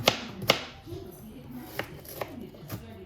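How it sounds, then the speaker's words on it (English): Knife chopping bacon on a board while preparing a stir fry, a few sharp close cuts, two strong ones at the start and lighter irregular chops after, with no talk. "Got some nice bacon. Cut up this."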